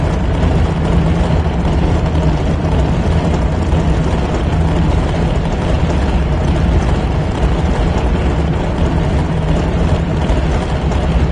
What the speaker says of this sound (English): The roar of the engines firing up, the smell of the exhaust